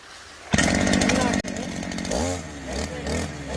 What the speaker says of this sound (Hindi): सुपारी के पेड़ में चढ़ने का कमाल का मशीन।